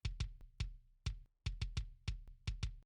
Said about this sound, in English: The Dream Kick sounds like this.